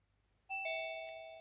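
A Zoom join-request alert chimes on an iPhone, two bright bell tones stepping up and then ringing on steadily, clean and alone in a quiet room.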